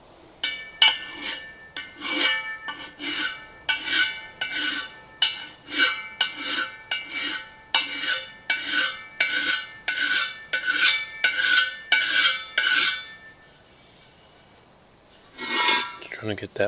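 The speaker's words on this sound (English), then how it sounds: "I just need to deburr it so that it's" Hand filing deburrs a small dent in a metal artillery wheel for a 1937 Pierce Arrow Travelodge trailer, with steady rhythmic rasping strokes close by that stop near the end before a brief final scrape.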